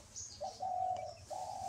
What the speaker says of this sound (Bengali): ঘুঘু ডাকতেছে কোথায়?